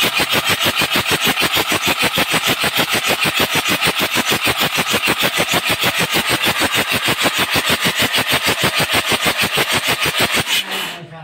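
A Mitsubishi 4D56 diesel engine, opened up for a top overhaul over a head gasket oil leak, is cranked over without compression, a loud, steady, fast rhythmic churning lasting about ten seconds before stopping abruptly.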